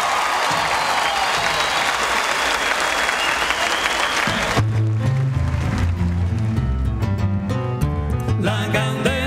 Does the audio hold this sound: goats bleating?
no